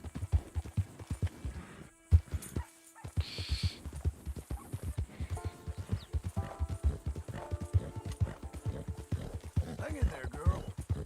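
Horse hooves clip-clop in steady rhythmic strides in Red Dead Redemption 2, close and clear, with a brief neigh; someone talks over the hoofbeats.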